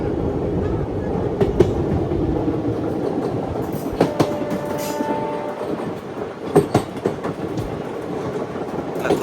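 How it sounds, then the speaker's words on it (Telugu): Andaman Express passenger train running on rails on a climbing stretch near Jammu, with a loud continuous rumble, rhythmic wheel clatter and sharp knocks, and a brief tonal horn-like sound partway through. "ఇట్లా కొండ ఎక్కుతున్నట్టుంది ఇక్కడ ట్రైన్,"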